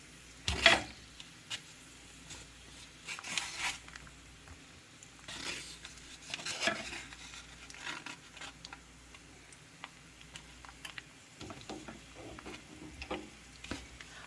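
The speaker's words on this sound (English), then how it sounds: "Now it's time to saute. Garlic first." Garlic sautéing in a pan for a Kapampangan kilayin dish, soft intermittent sizzling with occasional stirring scrapes and clinks, quiet and close, no talking.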